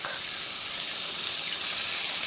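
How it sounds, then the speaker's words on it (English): Stock poured into a hot frying pan of black beans gives a steady, close hiss of sizzling that holds evenly across the short moment, with no talking. "I'm going to just add just a tiny bit more stock"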